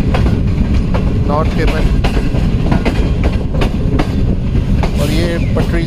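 Pakistan Railways Green Line Express rolls over the tracks near Shahdara Junction with a loud, close, continuous rumble and rhythmic clickety-clack, while someone talks throughout.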